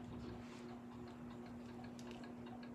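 A German pendulum clock ticks steadily in an even rhythm. The ticking is quiet and close, set against a faint, constant background hum.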